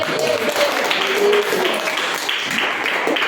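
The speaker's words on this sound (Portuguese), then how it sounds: "Bater aquelas palmas e dar aquele glória." A Portuguese-speaking church congregation claps during a worship service, a steady wash of many hands mixed with voices calling out and cheering over the top.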